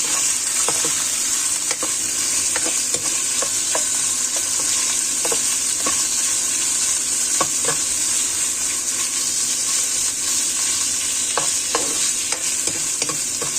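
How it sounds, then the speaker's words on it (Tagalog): Pork liver frying in a hot pan for a pork liver and clams dish: a loud, continuous close sizzle with scattered scraping clicks as the pieces are stirred, and no voices. "i-fry muna natin ang ating pork liver until na maluto siya"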